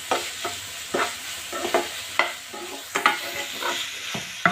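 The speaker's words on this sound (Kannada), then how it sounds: "ಸ್ವಲ್ಪ ಪೆಪ್ಪರ್ ಪುಡಿ, ಸ್ವಲ್ಪ ಚಾಟ್ ಮಸಾಲ ಹಾಕ್ಕೊಂಡು ಸ್ವಲ್ಪ ಫ್ರೈ ಮಾಡ್ಕೊಳ್ಳೋಣ" Vegetables sizzle and fry in a pan with pepper powder and chaat masala, while repeated stirring scrapes and clatters in a steady rhythm of sharp strokes over the hiss.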